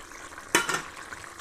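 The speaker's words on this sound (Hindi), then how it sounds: "मैंने अदरक लहसुन का पेस्ट डाल के उसको अच्छा सा भून लिया है" Mutton frying in a pan with garlic and ginger paste gives a sudden loud sizzle that tails off into a steady crackle, with a few soft stirring scrapes.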